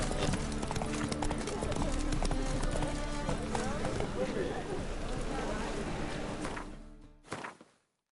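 Roach, a horse in The Witcher 3, trots with steady clip-clopping hooves under game music and dense ambience, with talk over it, before everything cuts out near the end and a brief burst follows.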